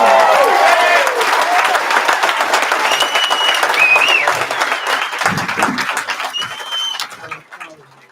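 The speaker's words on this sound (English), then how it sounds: "Can we give Bethany another round of applause?" A crowd applauds at a graduation ceremony, a dense, sustained burst of clapping with scattered cheers and voices that holds strong, then thins out and fades toward the end.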